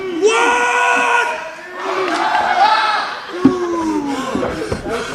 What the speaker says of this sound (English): Just heard that primal-like scream.